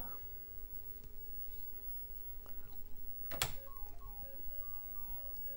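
A sharp click, then a run of short electronic beeping tones from Pac-Man on a TRS-80 MC-10 computer, faint and quick over a low background hum.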